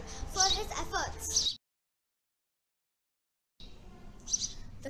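House sparrows chirp in quick, busy bursts, first a lively cluster of tweets, then a stretch of complete silence, then a second, fainter round of chirping.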